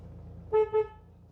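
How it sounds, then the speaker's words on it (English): Changan CS15 car horn giving two short beeps in quick succession, close by against a quiet background. "The horn also sounds like this."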